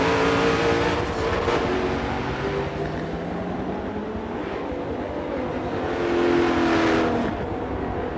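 Race car engine in Forza 7 at Circuit de Catalunya, a continuous droning engine note that rises and falls through gear changes and throttle, loud and steady throughout without speech.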